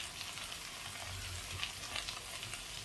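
Cauliflower and potato frying in a pan, a steady soft sizzle with faint stirring scrapes, close up and fairly quiet, with no voices.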